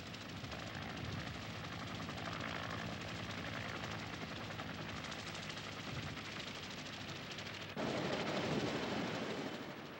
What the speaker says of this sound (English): Each chopper takes an hour to reach the evacuation fleet.